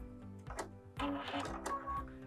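A home sewing machine stitches the corner of a fabric tote bag, a quiet mechanical whir with short bursts and pauses as the seam is reinforced near the cut.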